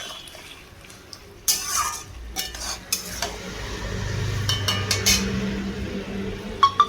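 Mutton curry with potatoes is stirred in a pot after water is added: wet scraping and clinking of a spoon against the pan, a low simmering bubble and faint sizzle, close and intermittent.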